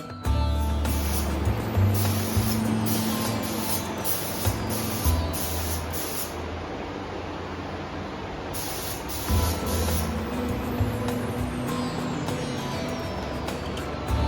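Spray gun applying paint onto speakers in a fabrication workshop, repeated hissing bursts of a few seconds each separated by short pauses, over a low background rumble.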